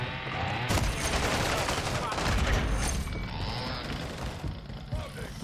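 Rapid bursts of gunfire from a first-person shooter video game crackle loudly throughout, mixed with game effects, while a player talks over the action.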